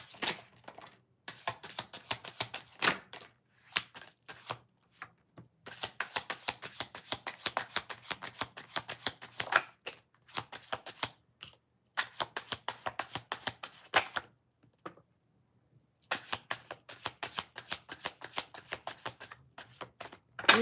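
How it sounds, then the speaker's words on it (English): Tarot cards being shuffled by hand, repeated bursts of crisp riffling and flicking in quick rhythmic runs separated by short pauses, close and clear with no talking. "it feels so good to shuffle"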